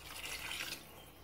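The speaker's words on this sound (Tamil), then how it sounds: "இந்த தண்ணியை ஊத்திடலாம்." Water poured into a pot of home-style chicken curry, a short close splashing pour that trails off quickly.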